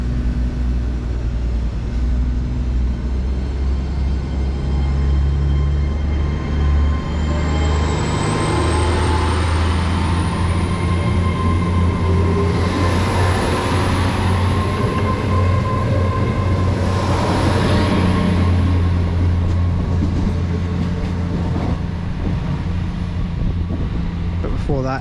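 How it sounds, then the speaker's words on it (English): A passenger train rolls on the branch line from Par towards Newquay, a loud steady rumble of wheels and engine heard from on board, with a rising whine and rhythmic rail clatter throughout. "We're going to be taking 15232 to the next stop we're going to, which is St Cullum Road."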